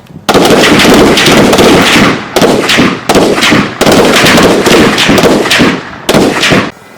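Police fire guns during a shooting drill: sustained loud bursts of rapid gunfire in several long volleys separated by brief pauses, close and harsh.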